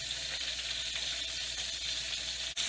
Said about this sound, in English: it's really starting to sizzle